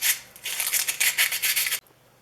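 Rolled 150 grit abrasive paper scrubs the slots of a Stanley No. 60 low angle block plane iron in steady back-and-forth rasping strokes, close and fairly loud, stopping abruptly near the end.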